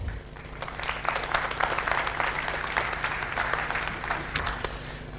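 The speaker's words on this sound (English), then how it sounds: "Round of applause." Audience applause at a security conference talk, a steady wash of clapping held at an even level from start to finish, with a faint voice murmuring underneath.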